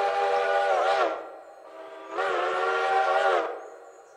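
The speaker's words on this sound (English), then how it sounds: "That's a nice sounding whistle there." A five-chime steam locomotive whistle in the Railroader video game sounds twice, a one-second blast then a longer blast over a second, rich chord-like harmonics, loud and clear with no talk.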